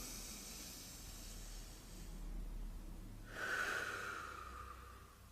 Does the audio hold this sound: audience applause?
no